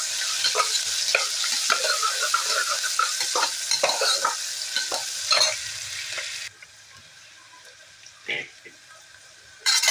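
Two medium chopped onions drop into hot oil with asafoetida, crackling in a loud bright sizzle punctuated by spoon-stirring clicks, then settling to a much quieter fry.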